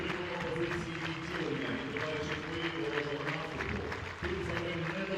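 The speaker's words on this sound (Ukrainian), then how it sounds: "І оплесками зустрічають Корнелія Звинку трибуни" Stadium stands at a Bukovyna football match applaud a border guard war hero, a steady wash of distant crowd clapping and murmur running under a commentator talking.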